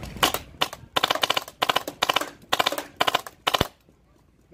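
A GI Sportz magfed paintball marker firing full auto outdoors, loud and close, in five or six rapid rattling bursts with brief gaps between them, then falling quiet.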